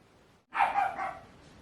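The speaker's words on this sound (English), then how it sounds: "There goes my dogs." Pet dogs bark indoors, one brief loud burst of a couple of overlapping barks after a quiet moment, fairly close, with no speech.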